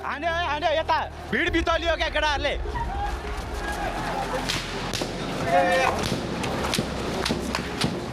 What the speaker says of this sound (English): we hear 7 gunshots and see Yogendra bleeding to death on the gr